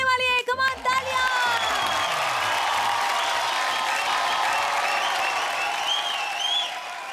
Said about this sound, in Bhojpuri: कम ऑन, तालियां।